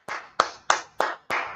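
A class clapping hands in praise of the Lord at a Tuesday Brotherhood class: five loud, sharp claps in a slow, even rhythm, close by, with no talking.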